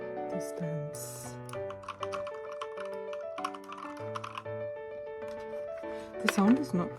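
Crisp key clicks from a custom mechanical keyboard patter irregularly up close, layered over steady background music, with a brief voice near the end.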